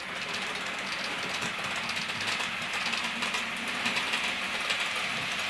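A Bachmann Class 411 4 CEP four-car EMU model train runs along the track during a stability test, giving a steady whirring motor hum with faint rail clatter throughout.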